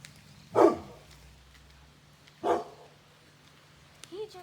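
A dog barks in short sharp bursts, two distinct yaps spaced about two seconds apart with a softer yip at the end, fairly close in a quiet indoor space.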